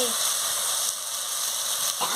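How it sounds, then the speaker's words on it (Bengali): A steady, bright sizzle of spice paste frying in a hot pan, fairly close and continuous, with a brief scrape or stir near the end. "মশলাটাকে আমি ভালো করে কষিয়ে নিচ্ছি"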